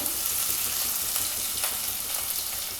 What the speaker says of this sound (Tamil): வெங்காயத்தை லைட்டாக வதக்கிடலாம்